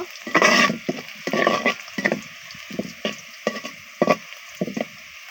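Bay leaves dropped into hot oil for a duck curry give a series of crackling, sputtering bursts with stirring scrapes, close and fairly loud, pulsing in short irregular clusters.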